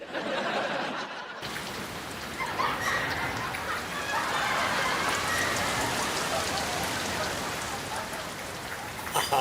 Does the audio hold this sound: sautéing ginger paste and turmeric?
no